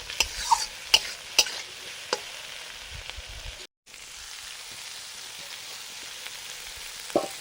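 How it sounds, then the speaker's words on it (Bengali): Fried rice vegetables stirred with salt in a pan, a soft, steady sizzle with a few sharp spatula clicks early on, a brief dropout midway, then gentle frying alone. "এখন লবণ দিয়ে সবজিগুলো সব তুলে নেব।"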